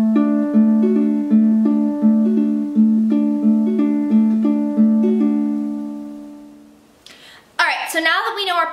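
Ukulele fingerpicking pattern for a song, a quick repeating run of bright plucked notes played steadily and close, ending in a brief pause followed by a short burst of speech.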